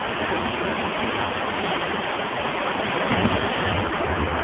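Fast, high river at Crystal Peaks park rushing in a steady, dense roar of water, loud and close with no pauses.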